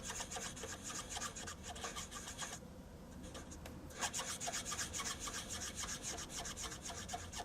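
A Blends marker brush point swirls across paper, giving a continuous soft scratchy rubbing with brief pauses, close and quiet, with no voices.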